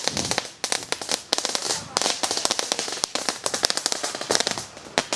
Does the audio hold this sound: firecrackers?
yes